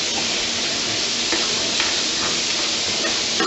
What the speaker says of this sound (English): We're just going to saute those a little bit to make them transparent.